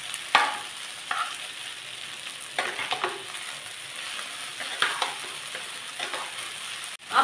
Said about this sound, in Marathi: सगळं व्यवस्थित हलवून घेऊया।